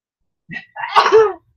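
A single sneeze, close by, a sharp intake followed by a burst with a voiced tail; nothing else around it.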